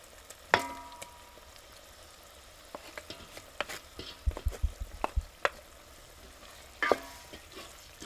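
Tomato going into a hot pan over a village fire while whole green onions cook, with scattered sharp clacks, scrapes and soft sizzling bursts rather than a steady fry, fairly close and without talk.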